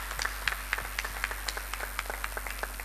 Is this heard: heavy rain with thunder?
no